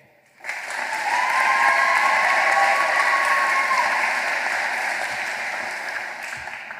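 Graduation ceremony crowd breaks into sustained applause for academic and support staff, starting abruptly and holding steady, dense and full for several seconds before easing slightly.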